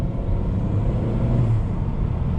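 Engine of a new Honda Civic with a single-speed drive and simulated gear shifts, accelerating as a steady, loud, close low roar that swells slightly mid-run without clear breaks, with no talking.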